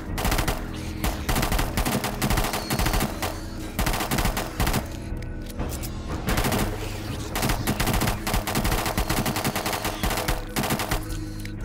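An AK assault rifle fitted with a semi-auto mod fires in the video game 7 Days to Die, with loud, dense bursts of gunshots that run almost without a break for the whole stretch.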